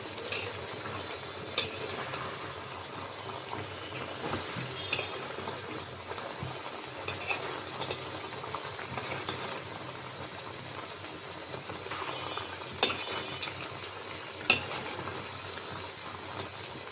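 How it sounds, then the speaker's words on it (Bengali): Chicken bones sautéing with pumpkin and potato in a pan, giving a continuous soft sizzle with scattered light stirring clinks throughout, fairly quiet and free of talk. "নাড়াচাড়া দিয়ে দিয়েছি, ঢাকনা দিয়ে আর একটু কষাই নেব।"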